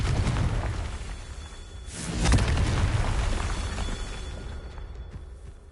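A Confringo spell explosion in the Hogwarts Legacy video game makes a loud burst with a rushing whoosh, then a long rumbling decay fading over several seconds.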